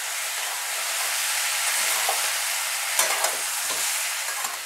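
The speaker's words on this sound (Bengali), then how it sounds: "এখন মশলাগুলো একটু ভাজবো।" Spices sizzle and fry steadily in a pan for paneer khichdi, with a broad continuous hiss and occasional scraping clicks of a spoon stirring through them, close and alone.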